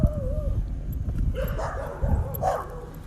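Dogs barking on a street in Gadsden, Alabama, a few short yips and barks heard at a moderate distance over low background rumble and outdoor noise.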